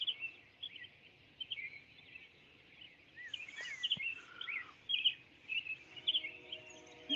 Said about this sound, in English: the birds are they really loud for you guys?